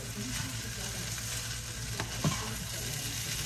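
Shrimp fried rice being stir-fried in a pan, a steady close sizzle with soft scraping of the stirring utensil and a brief clunk partway through, without talking.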